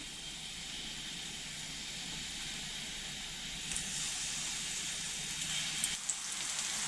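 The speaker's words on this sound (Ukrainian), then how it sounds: "Баклажани буду обсмажувати в декілька етапів. Не зразу всі, а так, розкладаю їх одним шаром і буду обсмажувати з двох боків." Eggplant slices frying in a single layer in a pan give a steady, close hiss and sizzle that holds evenly throughout, with a few faint clicks near the end.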